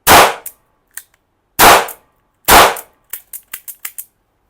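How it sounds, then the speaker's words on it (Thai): A black or polished silver Zoraki R2 blank revolver with a 3-inch barrel fires sharp, loud cracks at close range. Three big reports come first, with a few smaller pops between them, and a quick burst of six lighter snaps follows. "ทดสอบปืนแบงกันนะครับ ลูกโม่ R2 3D 3 นิ้ว 6นัดหนึ่งสอง"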